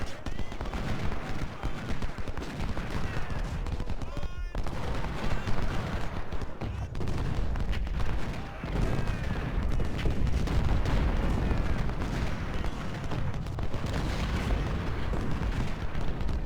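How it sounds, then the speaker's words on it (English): Four artillery guns fire repeatedly in the Ultimate General: Civil War video game, a continuous dense barrage of booms and blasts with no clear pauses, loud throughout. "with that artillery shooting, it's making a difference"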